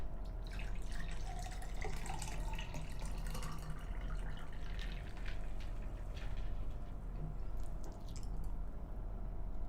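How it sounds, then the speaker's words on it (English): Crystal Light drink being poured: soft liquid trickling and dripping into a glass at low level, with faint splashes over a low background hum and no talk. "I'm just going to pour myself a drink here for a moment."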